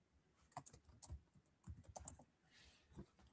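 Computer keyboard typing in quick, irregular bursts of clicky keystrokes, with a few short pauses between clusters; quiet and close, with no voices.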